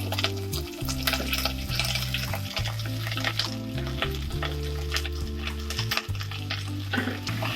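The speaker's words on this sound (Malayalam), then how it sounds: "നമുക്കിതിലേക്ക് ഉള്ളി ഇടാം." Onions hit hot oil for a Kerala beef curry and sizzle steadily, a dense close frying hiss with stirring scrapes, while low tonal music plays underneath.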